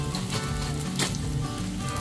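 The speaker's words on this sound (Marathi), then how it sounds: "आता त्यामध्ये साबुदाणा घालून घ्यायचा।" Sago pearls tipped into a pan of roasted chillies sizzle with a steady, close frying hiss that runs evenly throughout, with a brief louder burst near the middle.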